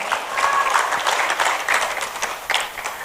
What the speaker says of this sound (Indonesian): Disilakan untuk memberikan apresiasi tepuk tangan untuk semua pasangan calon.